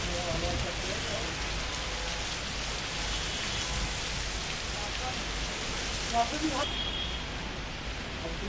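Light rain falls during a storm as a steady, dense patter of drops, continuous and fairly close for the whole stretch.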